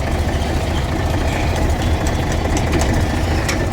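A farm tractor engine idles steadily at close range, a loud, continuous low rumble with knocking vibration and no pauses.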